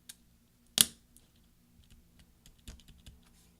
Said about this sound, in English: take your replacement escape key and just put that right on the top like that. And then push down until you hear several snaps